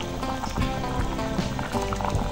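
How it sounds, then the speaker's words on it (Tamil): A ladle of sesame oil is poured into a pot of boiling Kanyakumari-style fish curry, heard as dense, close bubbling and sizzling throughout, with no voices. "இப்போ ஒரு கரண்டி நல்லெண்ணெயை ஊற்றணும்."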